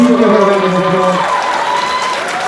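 A town hall meeting audience in Philadelphia's Chinatown applauding an interpreter, loud crowd clapping close by, with a voice speaking over the start.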